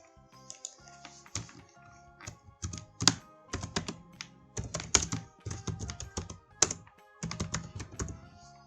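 Keystrokes on a computer keyboard as a campaign name is typed into an online store's admin form, bursts of close, crisp clicks separated by brief pauses, with no talking.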